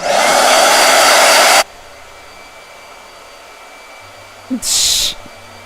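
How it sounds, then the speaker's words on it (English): A handheld hair dryer blasts loudly and steadily for about a second and a half, drying ink paint on a figure, then cuts off abruptly; a brief second burst of airflow follows near the end. "Blow dryer."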